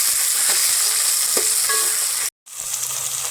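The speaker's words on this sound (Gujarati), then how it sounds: "હળદર આપણે નાખી દઈએ આપણે ગુંદાની ભાજીને ત્યાં સુધી ચડવા દેવાની છે" Gunda leaves bhaji with turmeric sizzling steadily in a pan, a bright continuous frying hiss with a few soft stirring scrapes and a brief break before the sizzle resumes.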